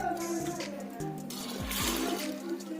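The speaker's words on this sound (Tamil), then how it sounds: "400 மில்லி தண்ணி ஊற்றிக்கலாம்." Water is poured into a pot of chana dal being set to cook, a soft continuous splashing and trickling with a few light knocks, heard close and fairly quiet.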